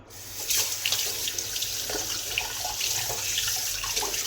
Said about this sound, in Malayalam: ഇതിൻ്റെ കറുപ്പ് ഒക്കെ കഴുകി കളയണം.